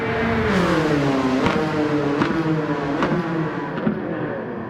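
An Alfa Romeo 4C '14 engine accelerates hard at Road Atlanta in Gran Turismo 7. It holds a loud, continuous, rising whine, and the pitch drops briefly at each upshift before climbing again.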